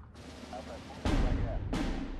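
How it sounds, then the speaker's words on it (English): Fighter aircraft strafing runs in the Steel Division 2 war game come through as a rumbling roar broken by two sharp, booming bursts of gunfire and explosion, loud and close, with speech faintly mixed in. "Bringing in my fighters for strafing runs."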